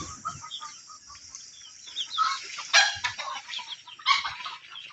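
Chicken clucking in several short bursts, moderately close, with rustling and movement around it and no talk.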